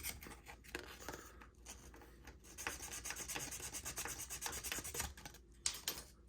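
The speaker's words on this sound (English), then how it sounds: "And you want to sand it." Folded 600 grit sandpaper rubs along an edge in a continuous, faint, close scraping sound that rises and falls with the back-and-forth strokes.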